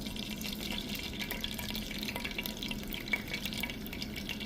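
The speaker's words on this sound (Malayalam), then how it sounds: "ഇനി നമുക്ക് ഈ ഓയിൽ കളയാതെ ഇതിലേക്ക് ഒഴിച്ചു കൊടുക്കാം." Hot cooking oil is poured into a pan while making chicken pepper masala, producing a faint, steady sizzling hiss with light liquid spatters throughout.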